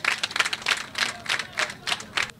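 Audience clapping at a participatory narrative photography presentation in Ouidah, heard as a brief burst of rhythmic, fairly light claps at moderate distance, rising and falling in uneven pulses.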